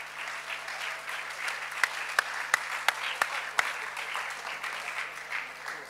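Applause at a party conference in Cologne thanking the sign-language and German-English interpreters: soft, distant crowd clapping with a few sharp, close claps standing out in a short irregular run.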